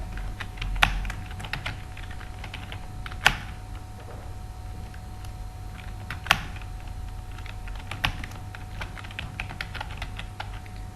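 Keys clatter on a computer keyboard as a title is typed into a Microsoft Word document, giving sparse, irregular taps with a few sharper, louder strikes over a quiet room hum, with no voices.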